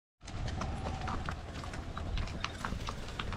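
Horse hooves clip-clop steadily on a mountain trail in the Colombian Andes, a continuous close rhythm of hoof strikes with faint outdoor background noise.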